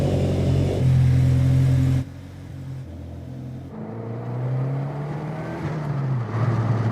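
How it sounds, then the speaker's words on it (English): A Subaru WRX VB with newly installed bracing accelerates hard on a test drive, its engine droning loud and close as the pitch climbs through gears, a brief shift dip cutting the note before it builds again. "Let's go for a test drive."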